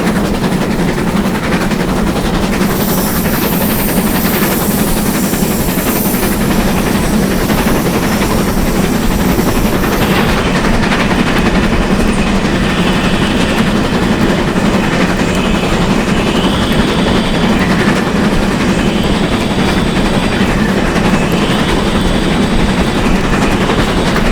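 GWR 7800 class steam locomotive working hard up a bank, a loud continuous roar and hiss of steam and exhaust with rolling train noise, steady and close throughout with no talk.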